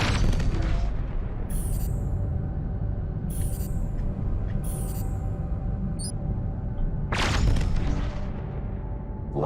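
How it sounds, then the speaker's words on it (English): Repeated heavy laser cannon blasts fire from a spaceship in the space game SpaceBourne, booming bursts arriving in an uneven sequence, loud and close, each with a bright zapping crack on top. "Now let's try laser weapons."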